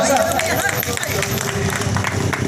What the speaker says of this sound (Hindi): इनके लिए एक जोरदार तालियां हो जाए